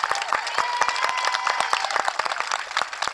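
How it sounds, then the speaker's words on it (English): An audience at an elementary school graduation ceremony claps for the graduating students, a dense, steady burst of applause with some cheering mixed in, close and lively throughout. "Let's give those students a big round of applause."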